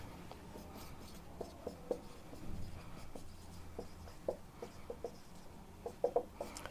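Marker or chalk writing on a board in a chemistry lecture: faint scratchy strokes and light taps come in short irregular bursts, close and quiet, with no talk over them.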